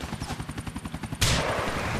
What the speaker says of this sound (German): Das muss jetzt der goldene Schuss sein.